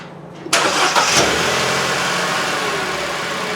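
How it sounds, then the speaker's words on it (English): A Vauxhall Corsa D 1.2 A12XER petrol engine from 2014 cranks briefly and catches, then settles into a loud, steady close-up idle. "okay, I've started the engine,"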